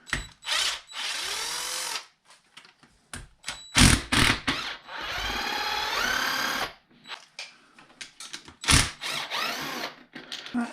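A power driver and hand tools loosen and remove parts from RC servos on a Primal Raminator. Bursts of high whirring come in short and longer runs, separated by clicks, ratcheting and brief quiet gaps, close up, with no speech.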